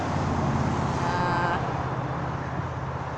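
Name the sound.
noisy highway traffic on a summer evening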